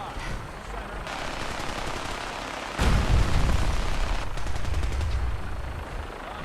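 Sustained gunfire in Fallout 4, machine-gun bursts and rattling shots that grow louder midway with heavier booming impacts, continuous and close throughout.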